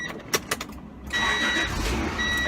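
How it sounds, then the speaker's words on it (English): Acura Legend coupe with a 5-cylinder engine and 5-speed manual, at 543,000 miles, cranking and catching after a few clicks, then settling into a steady close idle. "Let's see if this one starts."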